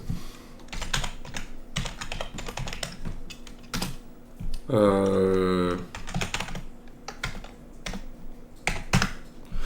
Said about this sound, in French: Faut que je change de clavier, les gars, j'ai l'impression qu'il fait trop de bruit.